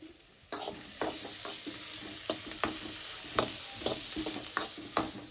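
Dried red chillies frying in a pan, a steady hiss of sizzling oil broken by regular scraping stirs of a spoon, close and moderately loud throughout.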